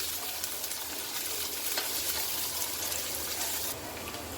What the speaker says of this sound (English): Saute it very well